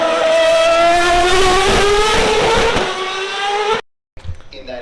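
A V8 race car with a titanium exhaust revs hard and close, a loud, rich, harmonic engine roar that climbs steadily in pitch for several seconds before cutting off abruptly, followed by faint background sounds.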